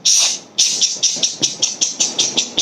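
Voices imitate a steam train's hiss: a long hiss, a brief pause, then about ten rhythmic chuffing hisses that come close, loud and steady, like an engine pulling away, with no talk over them.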